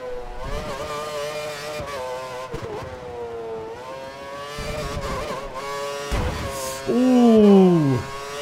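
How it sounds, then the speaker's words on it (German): Race car in the F1 2013 game at the Marina Bay street circuit in Singapore, engine droning steadily with a sharp high-pitched surge as the throttle is opened too early near the end. "Zu früh Gas gegeben."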